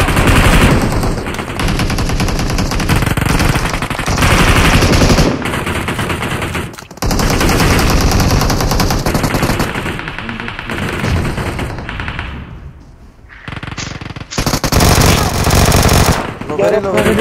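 Rapid automatic gunfire from an online multiplayer shooter game plays in long, loud, continuous bursts with brief pauses, under excited players' voice chat.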